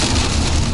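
Heavy rain falls during a stormy, windy day of fishing at the Beloyarsk reservoir, a dense, loud, steady hiss of drops hitting surfaces with a low rumble underneath.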